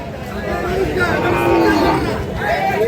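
Sahiwal bulls at the Khochabari livestock market in Thakurgaon give drawn-out lowing moos, loud and near, over a steady background of crowd chatter.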